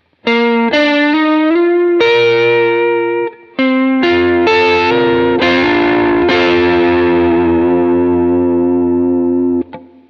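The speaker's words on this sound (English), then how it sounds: "here you have the Emperor that I use for vibrato." An electric guitar runs through an Emperor vibrato pedal, with distorted single notes and sustained chords wavering in pitch, ringing clearly with a short gap before a long decaying final chord.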